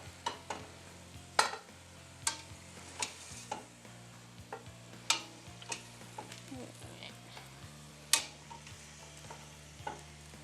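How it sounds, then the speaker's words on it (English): Meat browns in a pan with a low steady sizzle, broken by sharp scattered clicks and taps of a utensil against the pan, fairly quiet and without talk. "this meat looks like it's browning"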